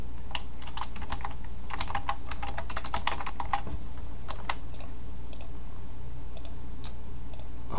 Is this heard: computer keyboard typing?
yes